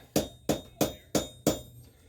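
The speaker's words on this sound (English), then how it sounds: "By hammering it down, we're forcing material to spread out." A blacksmith hammers the hot end of an iron bar at Old Fort Niagara, producing five sharp, ringing blows at an even rhythm, each decaying quickly, close and clear with no talk.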